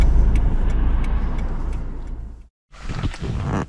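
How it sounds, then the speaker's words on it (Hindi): Heavy car traffic near a mosque on Eid in Winnipeg, Canada: a low, continuous rumble of passing vehicles with faint clicks, broken by a brief silence before the traffic noise resumes. "ये अभी काफ़ी रश है गाड़ियों का"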